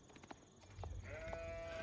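Sheep bleating in the video game Age of Empires, a short wavering bleat rising over low ambient game noise and faint background sounds, moderately quiet and brief.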